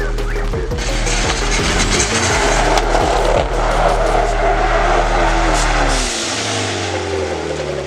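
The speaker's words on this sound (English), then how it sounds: "It's sputtering real bad." A car spinning donuts while drifting, its engine sputtering roughly, loud and close with rising and falling revs and tire noise before the engine drops away near the end.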